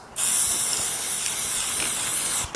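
Spray paint can applying anthracite lacquer onto an OSB board: one continuous, loud hissing spray burst lasting about two seconds, starting and stopping abruptly, with no talking.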